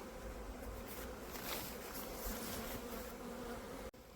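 Honeybees buzzing at the opened entrance of a Ukrainian-style hive, a dense continuous drone close by, with a few louder passes of individual bees and no voices.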